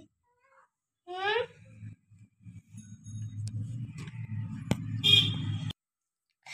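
A cat gives one clear, rising meow close by, followed by a low background rumble and a few faint clicks in a quiet room.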